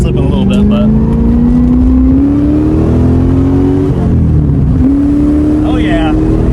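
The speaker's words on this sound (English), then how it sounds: "we're on an actual highway this time we do this pull, but we got the clutch back together" Car accelerating on a highway with a freshly reassembled clutch that still slips slightly, engine tone climbing steadily in a continuous loud pull, briefly dipping around a gear change before rising again, with cabin noise throughout.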